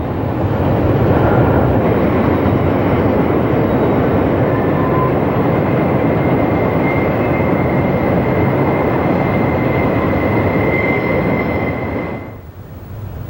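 A Conrail freight train passing on the Pittsburgh line beside a river, a loud continuous roar of rolling cars with a faint whine on top, cutting off abruptly near the end.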